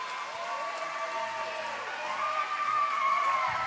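A steady crowd roar of cheering and scattered applause fills a junior roller derby game venue, sustained and fairly loud throughout, with a few whistle-like tones rising over the noise.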